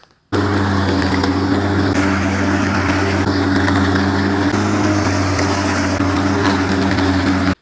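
An Einhell BG EM 1743 HW electric lawn mower runs steadily while mowing a garden, a loud, constant motor hum with a whirring blade that starts abruptly and holds at an even level throughout, with no talking.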